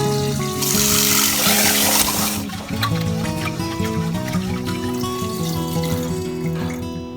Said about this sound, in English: We have 1 cup of jasmine rice and wash the rice 3 to 4 times just like this.